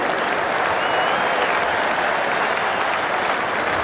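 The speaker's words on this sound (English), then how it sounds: "Getting a standing applause from the crowd, and well-deserved, Andrew Flintoff" A Lord's cricket crowd gives Andrew Flintoff a standing ovation during the 2009 Ashes Second Test between England and Australia, with dense, sustained applause filling the ground, loud and even from start to finish.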